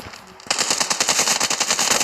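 Rapid automatic machine gun fire in a video game, a loud burst of fast, evenly spaced shots that starts after a brief quieter moment and keeps going to the end.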